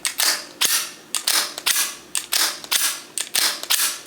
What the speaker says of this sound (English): The gun is going off and my trigger is dead.